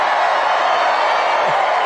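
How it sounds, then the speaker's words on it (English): Large crowd at a political rally in North Carolina cheering and clapping, a dense continuous roar of applause and shouts, loud and close. "What a nice crowd this is."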